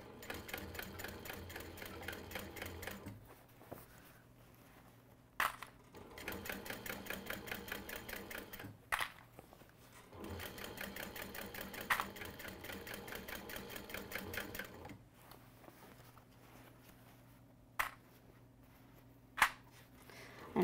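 A sewing machine stitches the seam of a simple tote bag in several bursts of fast, even, rattling needle strokes, each lasting a few seconds, separated by short pauses and a few sharp clicks.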